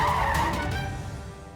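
A car skids to a stop on a street, tires squealing loudly up close before fading into low rumbling road noise.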